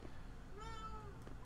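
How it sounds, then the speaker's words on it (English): A cat meowing in a room, one drawn-out, faint meow rising and falling over a low background hum, fairly quiet and close. "Oh, my cat wants to come in here."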